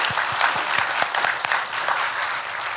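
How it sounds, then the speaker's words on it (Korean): A church congregation claps as a blessing during a worship service, loud, full applause from many hands, close and sustained throughout. "우리 축복하는 박수 하겠습니다"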